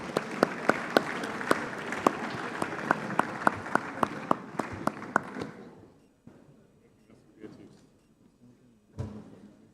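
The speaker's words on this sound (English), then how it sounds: "A round of applause as they come up." Audience applause in the main conference room of an Africa summit as partners come up for a group photo, lively clapping that fades out after about six seconds, leaving faint room noise and a few scattered sounds.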